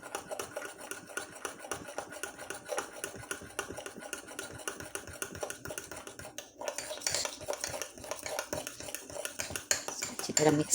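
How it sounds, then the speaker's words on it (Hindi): A spoon works waffle batter around a bowl, producing a steady, busy scraping and clinking rhythm close up that lasts throughout, growing slightly louder near the end, with no talking. "अच्छी तरह मिक्स करेंगे इसको"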